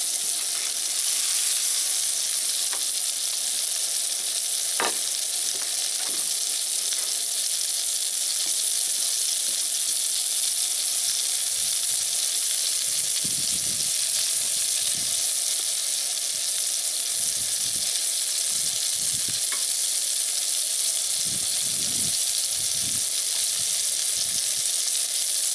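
Butter melting and sizzling in a hot cast iron pan during waffle-making, a constant close hiss with faint low clatters and bumps later on, no talking.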